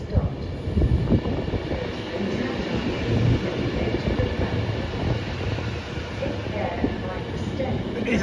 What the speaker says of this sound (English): Please stand back from the platform edge until the train has stopped.